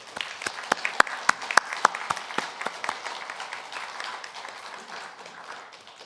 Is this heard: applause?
yes